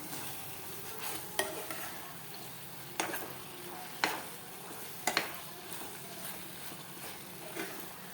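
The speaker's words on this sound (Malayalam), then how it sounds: "നമ്മൾ ഫ്രൈ ചെയ്ത് വെച്ചിരിക്കുന്ന ചിക്കൻ ഇട്ട് കൊടുക്കുക. നന്നായിട്ടൊന്ന് യോജിപ്പിച്ച് കൊടുക്കാം." Fried chicken pieces are stirred into a hot pan, with a steady sizzle underneath and a few sharp spatula taps against the metal spaced a second or so apart, close but quiet.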